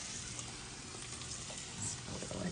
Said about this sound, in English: So our bacon is sizzling away.